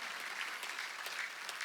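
A church congregation at a Sunday worship service claps together, a dense, steady wash of applause with no voices over it.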